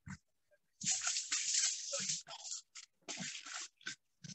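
Pigs at a grower's house in Uganda grunt and squeal in uneven bursts close by, with noisy, breathy calls running in clusters and brief pauses between them.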